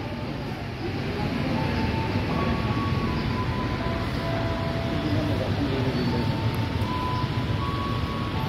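A KRL commuter train rumbles through Sudimara station, a steady low rolling roar that holds at moderate volume throughout, with faint high squeals from the wheels or brakes drifting in and out.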